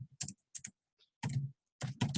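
Quick bursts of typing on a computer keyboard while searching for social media marketing for real estate agents on Amazon, clicking in short irregular clusters with brief pauses, close and moderately loud with no talking.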